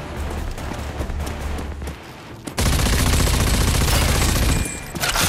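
Gunfire in the video game Rage 2, with loud, rapid bursts and shots close up, plus a dense, sustained stretch of heavy firing in the second half.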